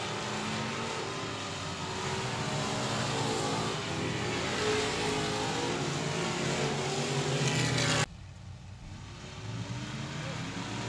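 Hobby stock race cars roar together at a dirt track at Texarkana 67 Speedway, a loud, continuous engine drone that suddenly drops to a quieter, more distant rumble near the end.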